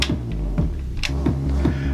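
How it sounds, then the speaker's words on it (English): Echo effect from a Pioneer RMX500 applied to a Syntakt drum machine groove, a looping electronic beat with thumping low pulses and repeated bright clicks trailing into each other, loud and close. "You've got echo,"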